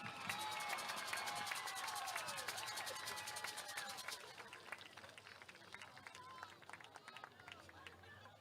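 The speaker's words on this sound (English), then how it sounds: "Let's get one more round of applause for outstanding band seniors." Crowd applause and cheering for outstanding band seniors at an Ada high school football game, a dense, loud burst of clapping that thins out after about four seconds into scattered claps, with voices mixed in.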